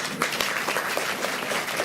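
Audience at a village meeting claps together in a dense, steady burst of applause lasting the whole moment, close and fairly loud.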